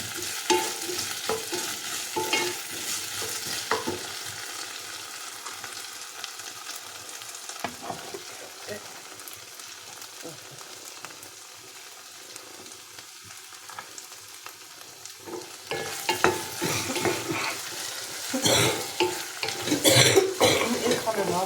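Onions and potatoes frying in a pan with tomato paste stirred in, a steady sizzle with scraping stir strokes and a few coughs, louder and busier near the end.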